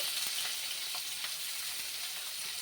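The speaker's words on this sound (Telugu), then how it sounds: "పచ్చిమిర్చి అండ్ కరివేపాకు పెళ్తుంది ఇంకా సన్నగా తరుక్కున్న ఆనియన్ కూడా వేసుకుని ఫ్రై చేసుకోవాలి" Green chillies, curry leaves and thinly sliced onion fry in hot oil for a black-eyed pea curry, giving a constant, fairly soft sizzle with occasional small spatters and no talk.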